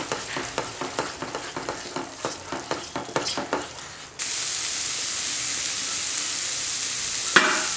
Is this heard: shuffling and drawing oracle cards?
no